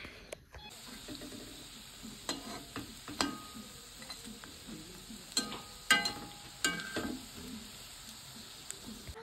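Bora fritters frying in a pan: a steady low sizzle broken by scattered sharp clinks and scrapes of stirring, fairly close and moderately loud, with no talking.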